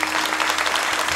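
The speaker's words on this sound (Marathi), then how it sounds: "जोरदार टाळ्या होऊ द्या" Brief, dense applause rises from a gathering at a devotional kirtan, a steady wash of many hands clapping at once with a faint low hum beneath.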